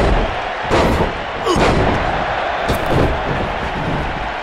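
Heavy body-slam impact from a lariat in the WWE 2K19 wrestling video game, a loud thud over roaring arena crowd noise with a couple of sharp hits.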